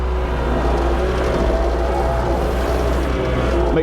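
An engine revs in a steady, loud, close drone, holding a high even roar without clear rises or drops.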